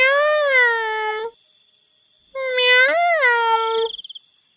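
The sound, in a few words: cat meowing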